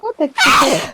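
A single sharp, loud sneeze bursts out after a couple of short breathy intakes, close to the microphone, with a brief voice just before it.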